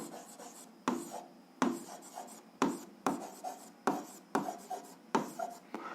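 A pen scratches out an equation system on paper for a 7th-grade algebra exercise, a close, quiet run of short rhythmic strokes with brief pauses between them.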